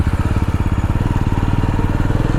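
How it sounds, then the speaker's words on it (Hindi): Royal Enfield Super Meteor motorcycle engine riding off-road on a trek trail, a steady loud low thumping beat close to the mic throughout, with no talking. "ऑफ रोडिंग बाइक नहीं है पर ठीक है, अपनी बाइक ठीक परफॉर्म कर लेती है"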